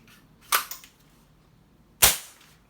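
A CM700A M40A5 bolt-action spring airsoft sniper rifle fires two sharp, close snapping shots about a second and a half apart, each with a short decay, in a quiet setting.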